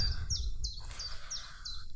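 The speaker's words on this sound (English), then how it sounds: "I've got a chiff-chaff above me, singing its little heart out" A chiffchaff sings from a treetop outdoors, its repeated chirping notes spaced evenly and fairly close over a low rumble of wind or distant background.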